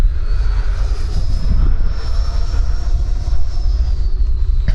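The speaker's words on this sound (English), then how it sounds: "So I don't think this jet can do inverted alpha the way I've been doing it with upright." An E-flite Viper electric ducted-fan RC jet, 70mm or 90mm, roars steadily overhead with a continuous whooshing drone that shifts slightly in pitch as it passes, loud and without speech.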